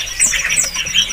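A becu kembang songbird at a bird market gives quick, high chirps and squawks, close by and bright, in a short burst.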